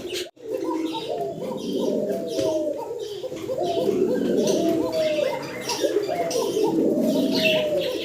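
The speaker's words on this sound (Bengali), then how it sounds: "সম্মানিত দর্শক ককার ডাক শুনতেছেন আপনারা" A male pigeon coos in repeated rolling phrases, close and clear, with soft background chatter and other bird chirps.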